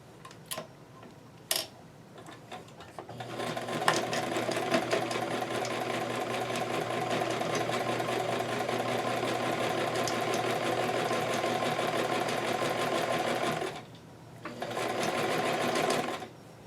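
A sewing machine stitches a doll skirt with straight pins left in place, running steadily and close for a long stretch after a few short bursts, pausing briefly near the end before starting again.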